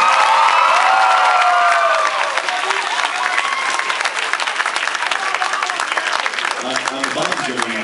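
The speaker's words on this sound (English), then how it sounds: "Everyone, clap for this man who is awesome." Audience at a Sakura-Con 2012 anime convention panel with a voice actor applauds and cheers loudly, a dense roar of clapping with whoops that fades partway through, with a voice talking near the end.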